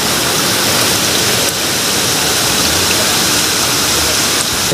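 Spring water pours into a small drinking-water tank intake at a hillside settlement, a dense, loud, continuous rushing splash close to the microphone, steady throughout without voices.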